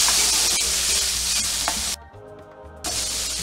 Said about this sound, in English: So we can sweat the onions